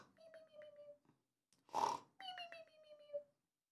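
A cat meows in drawn-out, wavering calls, with a brief harsher louder yowl between them and another long meow trailing off at the end.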